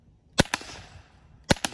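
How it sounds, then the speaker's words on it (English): PepperBall TCP non-lethal launcher firing at around 330 FPS: two pairs of sharp, close cracks, the second pair coming about a second after the first, over quiet background. "this gun is shooting really hard"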